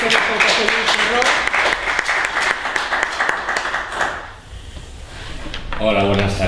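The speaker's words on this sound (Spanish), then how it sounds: "un aplauso para ellos" Applause from an audience at a tribute event fills the room, loud and continuous, fading briefly before a voice begins speaking at the end.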